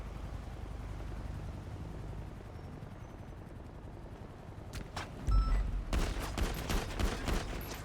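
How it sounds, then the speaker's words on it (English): Gunshots ring out in NoPixel GTA roleplay over a steady rotor drone like a helicopter, starting as a couple of sharp cracks before breaking into a rapid, ragged volley of close shots. "Shots fired."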